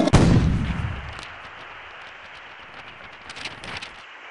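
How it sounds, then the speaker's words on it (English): A cannon fires in the I Spy Treasure Hunt video game, one loud booming blast that rolls away into a long fading rumble with faint crackling afterward. "A cannon."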